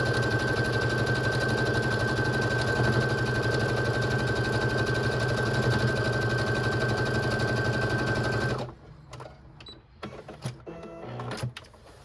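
A sewing machine stitches quilt strips for a Christmas nine-patch block in a fast, continuous motor whir with rapid needle chatter, then stops, leaving a few scattered handling clicks and bumps.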